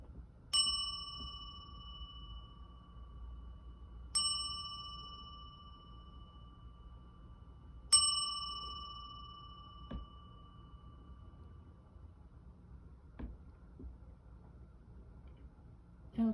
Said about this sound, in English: We're going to ring the bell before we get into this message.